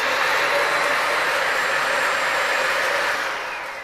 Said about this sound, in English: The vacuum itself makes a decent amount of noise.